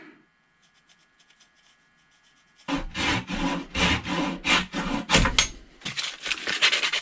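A wooden stick being cut to shape the tail of a homemade topwater fishing lure: near-silence at first, then a loud, close, continuous rough rasping and rubbing with uneven bursts for several seconds.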